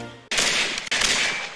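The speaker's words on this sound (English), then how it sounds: "He made a really funny animation about shooting guns." Gunfire in a Halo Mega Construx toy stop-motion animation: two sharp, loud bursts back to back, each one cut off abruptly, with no voices.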